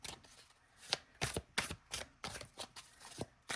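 Linen-finish oracle card deck being shuffled, a series of quick riffling bursts and soft taps in an irregular rhythm, close and fairly quiet with no voices.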